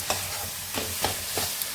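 A hot coconut and sugar mixture for coconut laddu is stirred in a pan, giving a few soft rhythmic scrapes and a faint sizzle across a short, quiet stretch.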